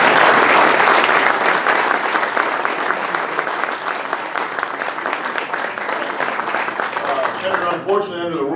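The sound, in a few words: round of applause for the senator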